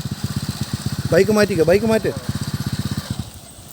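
A motorcycle idles with a rapid, regular thumping beat on a driving-school practice ground; a voice speaks over it midway, then the steady pulsing continues.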